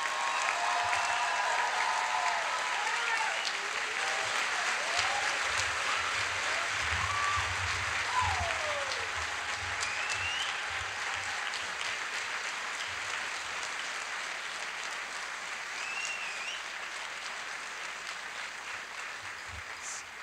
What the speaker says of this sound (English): we'll have one final round of applause for all degree recipients in chemical and biomolecular engineering